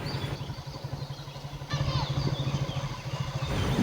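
A motorcycle engine runs along a village road in rural Assam, giving a steady low throbbing pulse that grows louder about halfway through and stays close and continuous to the end.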